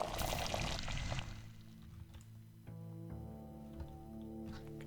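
Water gushes out in a brief noisy pour in the Pathologic 2 video game, loud for just over a second before fading into a steady tonal musical backdrop.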